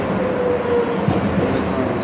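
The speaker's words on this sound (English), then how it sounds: "I'm on the train." Steady low rumble of a moving passenger train heard from inside the carriage, continuous and close, with faint rail clatter and a speaking voice over it.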